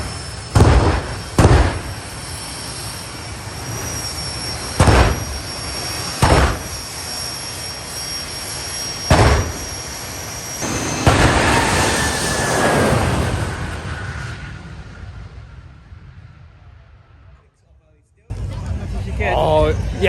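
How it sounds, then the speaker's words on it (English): Martin Hill's jet car running at the Festival of Power 2024: loud sharp bangs at irregular intervals, then a roaring jet surge that swells and slowly dies away, ending with crowd noise and talk. "There's a loud banging noise. That can only mean one thing. Martin Hill is out in his jet car."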